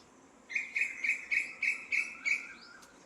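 An Asian koel calls on a farm, giving a rapid series of seven clear, rising whistled notes over quiet, faint background hiss.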